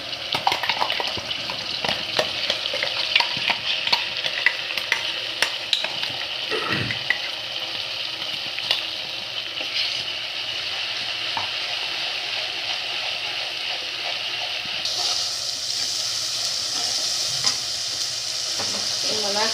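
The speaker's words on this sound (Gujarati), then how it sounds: "ફટાફટ ડુંગળીને લસણની પેસ્ટ ચડી છે" Onion and garlic paste frying in a pan for a Gujarati tuvar thotha dish, a steady close sizzle with soft spoon-stirring scrapes running throughout, no talking.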